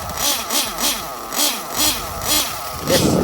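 A nitro RC truggy engine warming up, rising and falling in about six repeated rev bursts, then climbing to a louder, sustained high-pitched scream at the end; close and loud, no voices.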